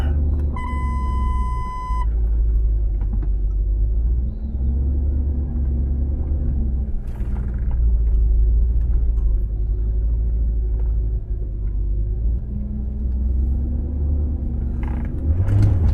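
A Range Rover with four-wheel drive switched off reversing on an off-road trail, a steady loud low engine rumble throughout, with a short beeping tone near the start and occasional thumps.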